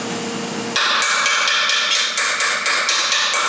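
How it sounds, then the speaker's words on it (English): Small ball peen hammer tapping a rusty exhaust flange while knocking rust off, about ten sharp metallic taps in a steady, even rhythm, close and loud after a brief opening stretch of noise. "take a small ball peen hammer"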